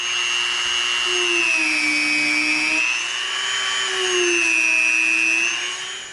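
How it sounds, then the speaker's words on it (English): Dremel rotary tool marking rivet details into EVA foam for a keyblade prop: a close, high-pitched motor whine with a wavering pitch as the bit presses and lifts, running steadily before tailing off at the end. "So we're going to come in with our Dremel."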